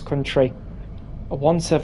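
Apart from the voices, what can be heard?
No distinct noise like a dog, phone or traffic.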